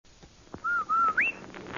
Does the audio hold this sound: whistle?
yes